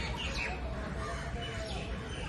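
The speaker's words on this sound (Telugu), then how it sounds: "ఇక్కడ పక్షులు శబ్దాలతో చాలా ఆహ్లాదకరమైన వాతావరణం ఉందన్నమాట" Birds chirp and twitter faintly among large old trees at a Mughal-era court site, in a noisy outdoor setting, calls scattered throughout.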